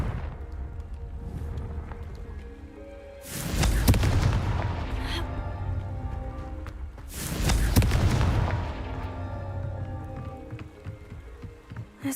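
Two heavy booming blasts from the Confringo spell in Hogwarts Legacy, each a loud rumbling explosion that swells and decays over about two seconds, separated by a few seconds of game ambience.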